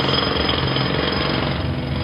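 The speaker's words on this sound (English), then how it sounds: "With the jackhammer making so much noise outside, nobody will hear a few blows on the door." A jackhammer pounding outside in the video game Memento Mori, a loud continuous rapid mechanical rattle filling the whole moment with no pause.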